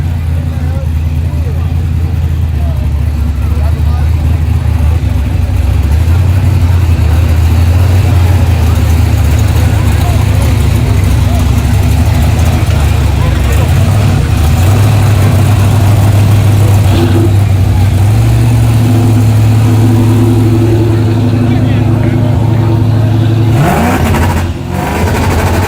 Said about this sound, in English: Is that a stock block in the Caprice?